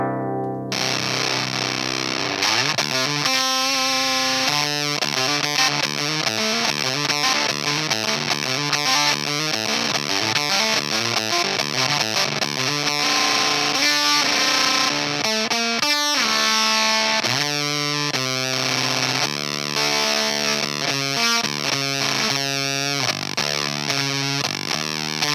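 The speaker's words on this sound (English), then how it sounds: "So, we've got the fuzz pedal tonight. It's EarthQuaker Erupter, and let's check it out." Electric guitar played through an EarthQuaker Devices Erupter fuzz pedal: a thick, saturated, buzzing fuzz tone on continuous riffs and sustained notes, loud and close throughout with no talking.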